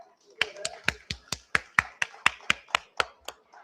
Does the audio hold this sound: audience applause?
yes